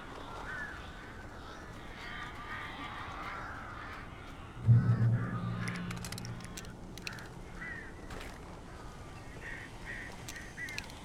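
Crows caw in the video game Alan Wake, a few harsh calls rising over a low ambient drone, with one louder burst in the middle and fainter calls afterward.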